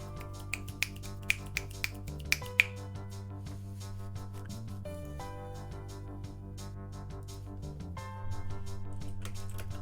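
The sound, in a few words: finger snapping by a group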